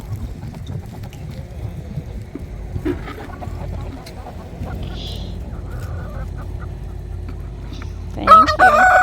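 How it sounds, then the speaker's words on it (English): Farm chickens cluck and murmur steadily in the background, then a rooster breaks in with a loud, close crow near the end. "The chickens keep running because they think I have food."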